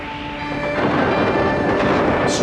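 Rolling thunder from a storm in an animated film, a dense, loud rumble that swells early and holds steady without any voices.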